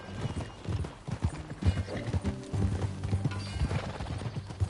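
Steady hoofbeats of a horse in Red Dead Redemption 2 clip-clop at a brisk trot, close and rhythmic, over a low rumbling background with a brief whinny.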